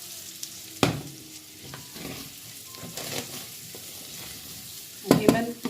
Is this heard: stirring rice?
yes